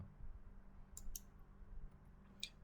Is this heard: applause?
no